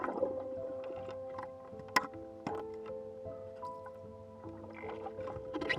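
A boat is paddled across a Florida pond at night. Soft watery splashes and drips from the paddle strokes come at uneven intervals, with a few sharp knocks and tonal hums and creaks. The sound is close and quiet, with no talking.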